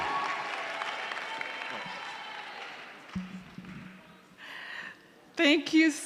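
Graduation audience at a leadership school ceremony clapping, a broad sustained wash of applause that fades out, followed by a few brief voices and sharper sounds near the end.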